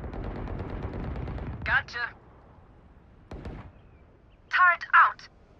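Short bursts of gunfire in the tactical shooter Valorant: a quick rattling volley at the start, a single sharp shot midway, then two more brief bursts near the end, separated by quiet gaps.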